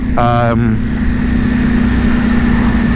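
A 2021 Ducati Panigale V4S on standard exhaust cans idles with a loud, steady rumble after a brief rising note at the start, close by.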